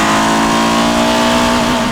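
Peugeot car with a TU5 JP4 engine revving hard in second gear up to the rev limiter, a loud sustained rising engine roar heard close up.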